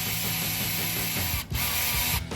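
Torx 20 bracket screws being undone on a 2001-2006 T1N Sprinter van, close mechanical whirring and ratcheting from a power tool in short bursts with two brief breaks.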